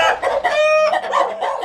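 Farm chickens clucking loudly and close by, with a rooster's crow rising through the short burst of hen calls.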